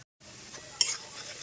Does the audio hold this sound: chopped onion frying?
yes